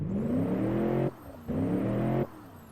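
A simulated car engine in the Automation and BeamNG driving games, a basic American rear-wheel-drive build, revs hard twice in quick succession, each roar holding steady for about a second before dropping back to idle.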